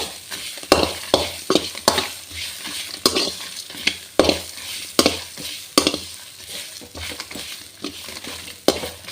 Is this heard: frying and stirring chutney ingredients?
yes